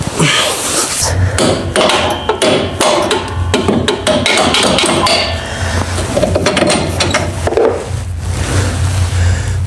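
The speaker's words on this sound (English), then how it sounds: "let's get the hammer and pop them out" Repeated sharp hammer blows on metal, knocking out rear suspension parts on a 1979 Fox Body, irregular and loud, with clanking between strikes and a steady low hum beneath.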